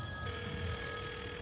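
A telephone rings in a short electronic burst with steady tones, heard alone and fairly close.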